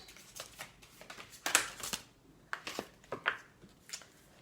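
Tarot cards are handled and drawn from a deck, a quick run of close papery slides, flicks and soft snaps, faint and intermittent, with no voices.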